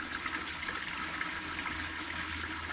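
Steady liquid pouring into a gold-prospecting sluise or classifier setup outdoors, a continuous trickling, splashing water stream held at an even level throughout with no talk.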